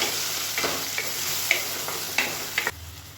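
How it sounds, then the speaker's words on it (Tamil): Tomatoes sautéing in a pan for tomato rice, a steady oil sizzle broken by several sharp spatula scrapes and stirring knocks, close and clear, ending abruptly. "இப்போ தக்காளி நல்லா வதங்கிட்டு இருக்குது"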